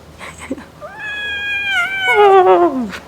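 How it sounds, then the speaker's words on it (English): A house cat lets out a drawn-out, wavering meow that rises and then bends downward at the end, close and fairly loud, with a short soft sound just before it. "I just love that cat, seriously."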